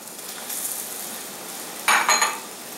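Onions and peppers drop into a skillet of beef juices with a soft, steady sizzle, joined by a brief burst of louder scraping and clattering as a utensil stirs the pan, close up, with no speech.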